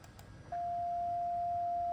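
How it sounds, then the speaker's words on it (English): A steady pure sine tone from an adjustable-frequency op-amp oscillator circuit switches on after a brief quiet pause and holds unbroken at constant loudness to the end. "if you wanna use your ears to detect this sine wave, you can always use and search this one"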